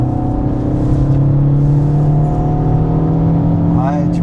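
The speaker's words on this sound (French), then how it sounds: "t'entends ça de dos, tu penses que c'est une voiture de sport" A Fiat 500 Ferrari Dealers Edition engine revs in a sustained, steady drone that holds a high pitch, heard close and loud throughout, with a voice speaking briefly near the end.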